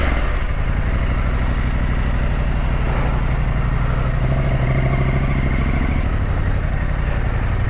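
A Husqvarna Norden 901 motorcycle rides on cold, frosty roads, its engine droning loudly and steadily throughout with a continuous rumble and occasional clatter, no voices.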